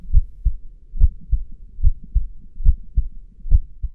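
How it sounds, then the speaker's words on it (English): A heartbeat sound effect in a supernatural audio story thumps low and steady in paired beats, about seven double pulses, close and loud with no voices over it. "her heart pounding in her chest"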